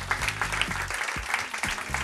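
A quiz night audience applauds a team. The clapping is dense and continuous throughout, with no voices over it.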